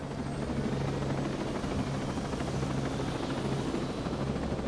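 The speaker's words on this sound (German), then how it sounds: "So, den Heli haben wir da unten im Hochpark," Helicopter in a video game, parked down in a high park area, giving a steady, loud rotor and engine drone with a constant low thrum and whine throughout, no voices.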